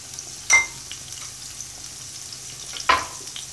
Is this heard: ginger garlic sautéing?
yes